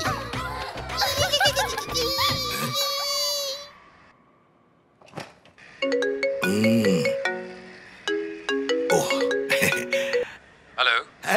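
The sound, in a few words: phone ringtone of an incoming call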